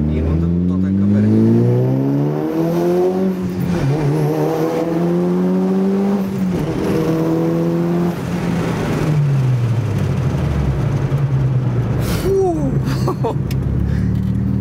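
A Mitsubishi Lancer Evolution 9 with about 450 horsepower revs hard, its engine pitch climbing and falling in repeated sweeping runs, loud and close, ending with a quick sharp rise.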